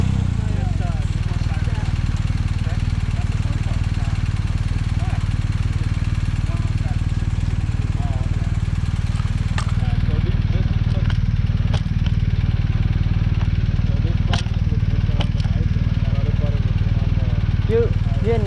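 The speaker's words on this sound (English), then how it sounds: "You knew you wanted to get on the motorcycle." A police motorcycle engine runs steadily at idle in Avondale, a continuous low rumble under nearby voices, with a few faint clicks and clatter toward the end.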